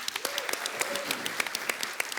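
An audience applauds director Mehar Gulati at a stage event, with steady, dense clapping from a crowd and sharper individual claps standing out throughout.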